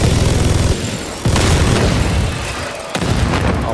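A player's powerful gun firing in a video game, booming blasts in rapid repeated bursts that break off briefly and resume, loud and close.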